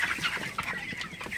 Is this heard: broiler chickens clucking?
yes